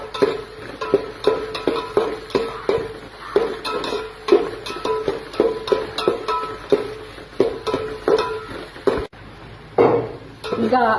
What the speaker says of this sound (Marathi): एक 2 ते 3 मिनिटं आपण कांदा परतूया।